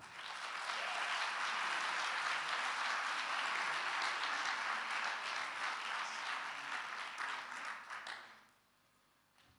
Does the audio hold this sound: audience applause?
yes